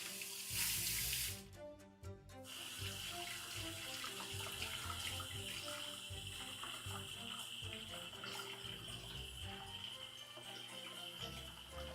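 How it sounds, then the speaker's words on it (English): A tap runs steadily into a sink while a puppet part is washed under it, with a brief loud burst of hiss and clatter at the start, then continuous close running water throughout. "I'm gonna quickly wash this one so that it can dry, hopefully."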